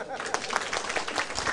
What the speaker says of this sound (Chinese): 赞，拍手。